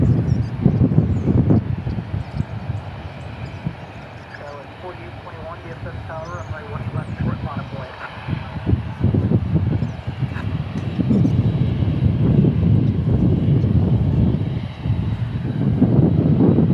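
A jet airliner at DFW airport gives a broad, loud engine roar that dips in the middle and swells again. Voices talk over it.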